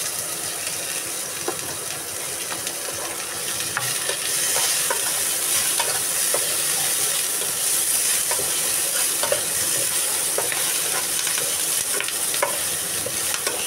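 Onions sizzle steadily in a pan on a home stove, with scraping stirring strokes and light clinks recurring over the continuous frying hiss.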